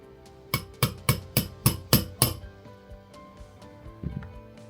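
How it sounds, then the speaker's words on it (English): A steel pin punch is struck seven times in quick, even succession to drive out the ejector retaining pin of a Krieghoff shotgun, giving sharp metallic clinks, followed by a few fainter taps. "we use a pin punch to knock the retaining pin out from the inside"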